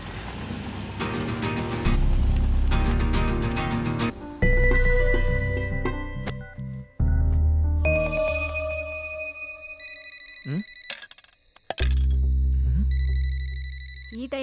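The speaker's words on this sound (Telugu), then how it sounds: "ఈ టైంలో తినేటప్పుడు ఫోన్ ఎవడయ్యా?" A mobile phone rings in a home during a meal, with repeated electronic tones and melodic beeps in bursts that stop and restart across the stretch, sounding fairly close among other background sounds.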